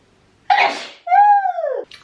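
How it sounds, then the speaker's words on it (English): A single close, forceful sneeze, a sharp breathy burst followed by a voiced, trailing 'choo' in a quiet room. "I'm going to sneeze."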